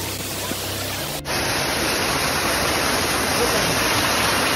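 A flowing stream on the Nakhind ridge trek gives a steady, dense rush of water, close and even throughout, with an abrupt shift in tone early on and no voices over it.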